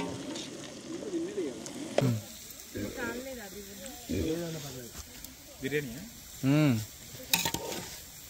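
Onions sizzle and fry in a pot for bagara rice at an outdoor campsite after dark, stirred with scraping strokes, while several people talk and chatter loudly over the cooking.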